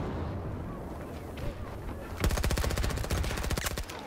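Submachine gun fire in the shooter Battlefield 2042: after a quiet stretch, a rapid, steady automatic burst rings out close and loud for over a second.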